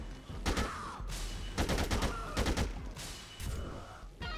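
Gunfire in Dead Rising 2 as zombies are shot: several rapid bursts of sharp shots, with short pauses between them, heard fairly close and quiet overall.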